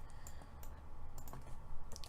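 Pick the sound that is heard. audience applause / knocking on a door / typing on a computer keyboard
typing on a computer keyboard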